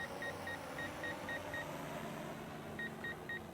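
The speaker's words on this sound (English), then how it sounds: "I wonder if we can turn that beeping off, because just for the sake of this video, it's super annoying." A DJI M300 drone's collision avoidance warning sounds a rapid series of short, high electronic beeps in two bursts, six then three, over steady outdoor background noise.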